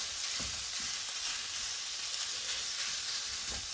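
Pork mince sizzles in a hot pan with ginger, garlic and chili, giving a steady, dense frying hiss with occasional faint stirring scrapes. The sound runs continuously and close, with no voices.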